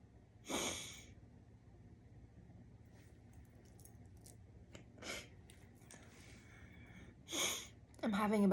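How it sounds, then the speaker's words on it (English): Someone sniffles with a runny, stuffy nose: three separate wet sniffs and snorts spaced a few seconds apart, close and fairly loud, over a low steady background hum. "I'm having a bit of a rabbit nose right now. Having a little bit of sniffles."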